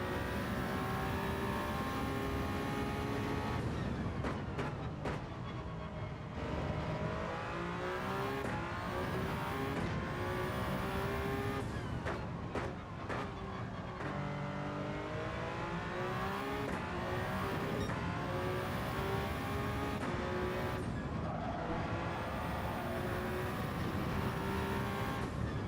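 A GR1 race car engine roars around Watkins Glen in Gran Turismo 7, holding a loud, steady drone with pitch rising and falling through throttle lifts, downshifts and acceleration out of corners.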